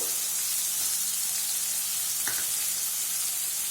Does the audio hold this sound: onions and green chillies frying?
yes